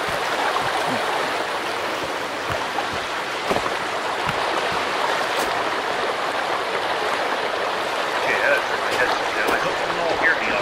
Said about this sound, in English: That water is quite loud.